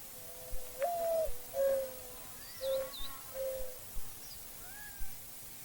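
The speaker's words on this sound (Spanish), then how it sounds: "el arrullo de las palomas es uno de los numerosos cantos que suenan en el bosque de cactus" Soft dove cooing calls repeat several times at moderate distance, interspersed with a few higher chirps from other birds in a quiet saguaro cactus desert forest.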